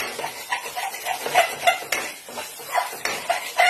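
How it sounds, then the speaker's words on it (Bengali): Spoon scraping and stirring spices in a pan while cooking a baby rahu fish curry, with repeated clinks and scrapes in an uneven rhythm, close and fairly loud, no talking. "এটা লেগে যাচ্ছিল নিচে, আমি নাড়িয়ে নিই।"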